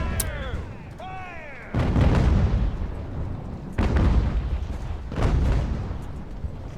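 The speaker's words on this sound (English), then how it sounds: "Oh, I love having a lot of artillery on this game. It's devastating." Artillery fire in the naval battle game Ultimate Admiral: Age of Sail, with three heavy booming bursts that roll out and decay, following a few seconds of a quieter battle soundscape; someone talks over part of it.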